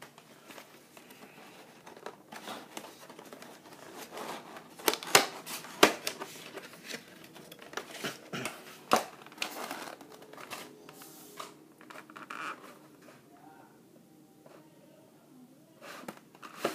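Unboxing of a Pokemon Mewtwo collection box, with crinkling plastic and cardboard handling, scattered close rustles, tears and sharp snaps of varying loudness.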